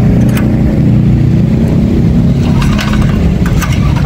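A Solar SHB high pressure washer rated at 186 bar runs on its diesel engine, a loud, steady low-pitched drone with rattling mechanical texture, close up and continuous throughout, with no talk.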